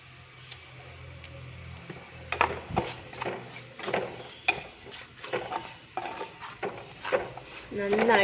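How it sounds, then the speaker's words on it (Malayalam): Shallots frying in a pan for a Kerala-style king fish curry, stirred with a utensil that scrapes and clinks against the pan in irregular close strokes over a light sizzle. "ചെറിയുള്ളി ചേർത്ത് നന്നായിട്ട് അങ്ങോട്ട് ഇളക്കി കൊടുക്കുക"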